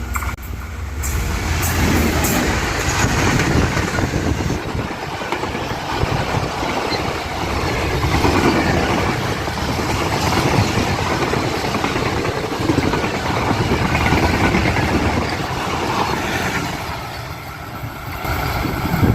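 A train on Pakistan's Main Line 1 arrives at speed near Chichawatni railway station, a loud, steady rumble of engine and wheels sustained close by throughout with no one talking.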